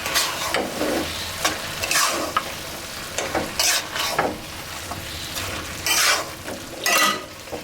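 A pan of vegetables tossed with salt and sugar, loud close scraping and stirring strokes in uneven bursts over a continuous frying sizzle, with no talking.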